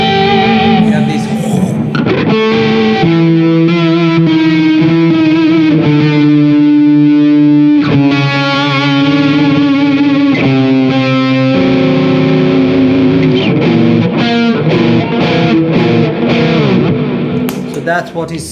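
Electric guitar runs through a Ratin Blue Angel distortion pedal set for big gain, playing dissonant note pairs that ring out thick and harmonically rich, several sustained chords in a row, loud and close.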